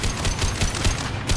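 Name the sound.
high-impact gunshot from the video game Mass Effect 2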